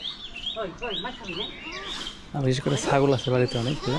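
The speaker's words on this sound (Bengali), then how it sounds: "সকালে ভোরবেলা তো এই জন্য পাখির ডাকটা খুব" Small birds chirp and tweet in the early morning, high and fairly close, before a person starts talking over them.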